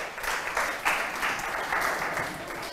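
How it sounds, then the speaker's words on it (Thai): Students applauding a classmate in a classroom during a primary-school maths lesson, a steady patter of many hands in uneven pulses lasting a few seconds. "โอเคปรบมือให้เพื่อนหน่อยค่ะ"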